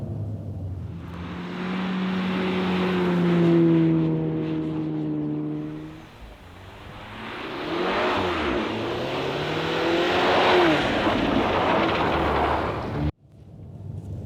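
A 300 hp Volkswagen T-Roc R accelerates and slides out of a corner near the polar circle. The engine roars loudly and close, with rising revs in two strong pulls, then cuts off abruptly near the end.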